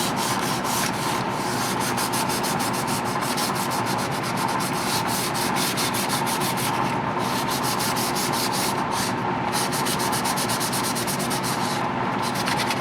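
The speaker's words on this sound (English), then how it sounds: "I'm gonna use 220 and then work my way down to the fine stuff" Steady, continuous rubbing of 220 grit sandpaper on a model, close and loud, with a constant abrasive hiss throughout.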